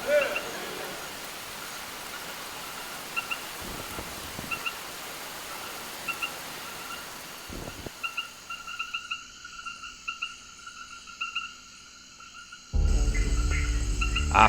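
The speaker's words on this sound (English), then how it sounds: "a deluge cascades from the sky" Heavy mid-afternoon tropical rain pours down in the Ecuadorian jungle along the Rio Napo, a steady broadband hiss with frogs and insects calling, swelling into a louder roar near the end.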